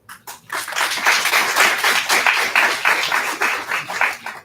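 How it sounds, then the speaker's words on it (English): A room of seated guests at a women's dialogue-series event claps for a speaker, a dense, even round of applause lasting several seconds before fading away. "Loud round of applause for ma'am."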